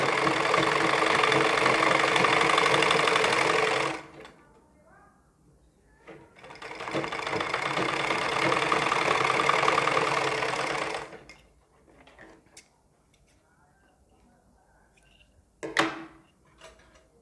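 A sewing machine runs a straight stitch on a ladies' suit sleeve. It makes two steady, close, loud whirring bursts of about four and five seconds, with quiet handling noises between them and a brief clack near the end.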